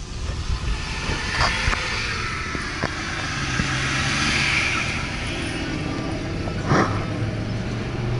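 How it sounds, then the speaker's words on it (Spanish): Steady BMW M5 car interior drone with broadband road and engine noise, a few brief clicks and thumps scattered throughout, no talking. "los primeros metros en el M5 nuevo"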